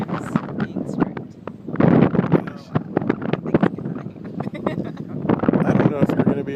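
Wind buffets the microphone on a North Carolina beach in gusty, rumbling bursts while people talk over it.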